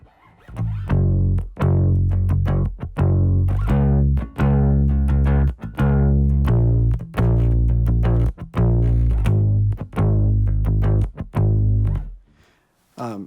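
Electric bass plays the second chorus of Raise a Hallelujah alone, steady repeated plucked notes in a driving subdivided picking pattern, loud and close with brief gaps between phrases.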